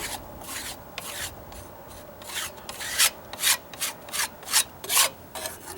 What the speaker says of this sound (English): I'm just stepping on the steps where I can, where it's not wet, and then wiping it down